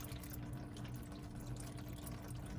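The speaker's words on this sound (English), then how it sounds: "just letting a slow flow of oil come out" Engine oil drains slowly from a Ford F-150, a faint, steady trickling flow of liquid with a constant low gurgle and no other sound.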